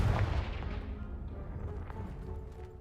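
A Confringo blasting spell goes off in the Hogwarts Legacy video game, a loud booming explosion at the start that decays into a rumbling, crackling tail.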